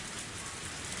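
Rain falling in the visual novel game Higurashi When They Cry: Tatarigoroshi, a brief, even wash of soft steady rainfall with no distinct drops or thunder.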